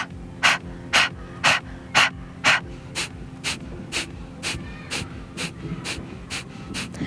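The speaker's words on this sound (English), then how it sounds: "practice first with your mouth open, almost doing a panting motion, and then close your mouth" Rapid, forceful nasal breathing during a yoga detox sequence, about a dozen sharp panting exhales in an even rhythm, loud and close at first then slightly softer, with no talking.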